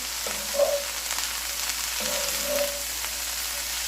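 Shredded cabbage fries in butter and olive oil, a steady close sizzle with a couple of stirring scrapes through the pan.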